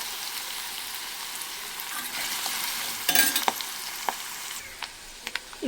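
Curry leaves frying with ginger paste in a pan for a drumstick and tomato curry: a steady soft sizzle with a burst of spitting crackle midway, then scattered pops and stirring clicks.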